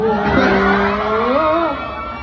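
A fan crowd at the KCON 2023 Thailand K-pop event screams loudly and continuously, shrill voices rising and falling in a dense, close wall of sound.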